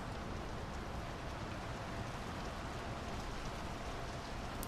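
Steady rain in the video game Draugen falls without a break, a dense and loud hiss of drops pattering on surfaces that fills the whole stretch.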